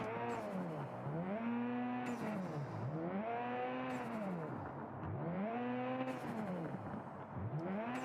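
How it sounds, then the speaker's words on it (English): Car engine in the mobile game Tuning Club Online revving and dipping in repeated swooping cycles as the car slides under braking, with tire hiss and whine, loud and continuous with no talk. "The regular brake will put you into a straight slide like I'm doing now"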